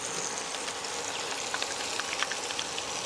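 Fenugreek seeds, garlic and asafoetida frying in oil for a tempering in a ginger tamarind curry, giving a steady, fine crackling sizzle with scattered small pops, fairly soft and continuous at close range.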